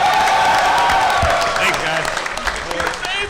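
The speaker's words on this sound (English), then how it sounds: "They're cheering on your level of fitness." An audience at a firearms panel applauds and cheers, with scattered claps and crowd noise under someone speaking over a microphone.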